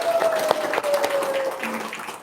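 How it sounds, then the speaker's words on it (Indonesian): Members of an indoor gathering applaud together in a moderate, continuous patter of claps, while a thin steady tone hums faintly underneath. "Tepuk tangan ya."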